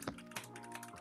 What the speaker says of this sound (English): I hope my stream gets to hear all my keyboard typing.